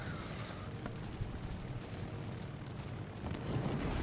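Torpedo hits detonate in the World of Warships naval battle game: a dense, continuous rumble of blasts and booming, with sharper cracks early on and a surge of low roar near the end.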